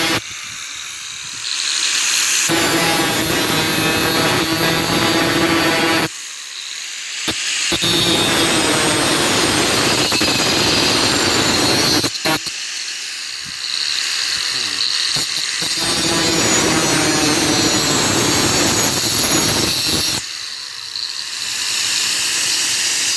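A grinding wheel cuts into sawblade steel for a knife, a loud, harsh whining grind in long bursts with brief pauses between them, someone talking at times.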